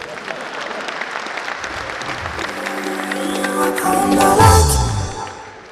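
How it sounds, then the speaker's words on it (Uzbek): An audience at a comedy stage show breaks into applause that builds steadily and peaks near the end, a dense clapping crowd with voices mixed in. "Mayli olqishlayib ketsin chiqib."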